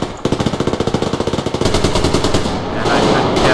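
Rapid full-auto bursts from an AK rifle in the video game Survarium, a steady fast rattle of close, loud shots running on into a denser barrage of overlapping fire.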